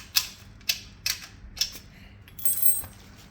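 A nut being tightened on a 2-in-1 balance bike, several sharp ratcheting clicks at regular intervals followed by a brief grinding scrape, close and fairly loud with no talking.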